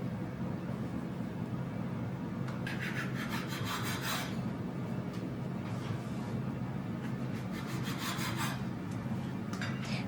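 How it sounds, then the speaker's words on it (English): Knife cutting protein tortilla wraps into squares and quarters: two or three soft scraping, rasping strokes against a cutting board, faint and close over a low steady hum. "now that we have a square shape, we are going to cut it in half and then quarter it down"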